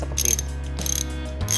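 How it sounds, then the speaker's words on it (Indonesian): A ratchet wrench clicks in quick, close bursts of sharp ticking over a steady low hum. "Karena dia berbunyi seperti ratchet seperti ini"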